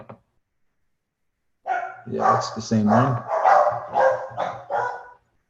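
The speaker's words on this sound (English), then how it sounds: "I apologize for my dogs in the background." Dogs guarding a house bark in the background, a rough run of barks and yips after a pause, fairly loud, with a voice speaking briefly over them.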